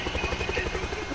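A helicopter in a video game, with a close rhythmic rotor thump and a continuous engine drone that pulses evenly through the short clip.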